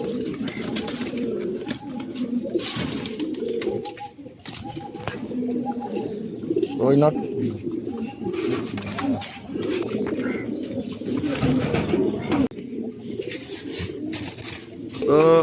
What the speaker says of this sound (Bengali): এই যে একটা স্পেশাল কবুতর